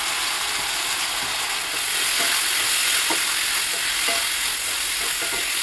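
Half a kilo of brinjal, seasoned with salt and a little turmeric, is stirred as it fries in a pan. A steady sizzle runs throughout, with scraping stirs and clicks at irregular moments and no talking.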